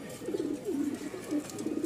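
A flock of fancy pigeons, including Danish, Toy Lahori and Beauty breeds, coos in several low rolling calls that overlap in a quiet, steady murmur nearby.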